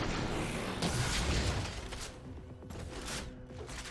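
Rocket launcher blasts and explosions against waves of crawlers in Halo 4 Spartan Ops, a dense burst of booming impacts up front that fades into scattered mechanical clatter and smaller pops.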